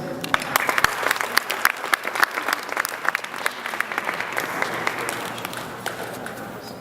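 An audience claps to welcome a speaker on stage at an evening show, a steady and fairly close ovation of many hands that stays even throughout, with some crowd murmur underneath.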